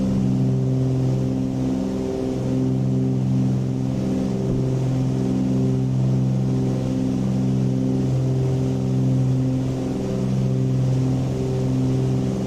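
Twin engines of a Cessna 414 drone steadily during a climb after takeoff over Hawaii in Microsoft Flight Simulator 2020, a constant loud hum, no voices.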